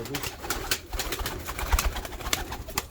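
Pigeons in a loft, flying and tumbling breeds kept for aerial play, give off a busy mix of coos and wing flutters close by, steady and fairly loud, with a few sharp claps and bursts throughout.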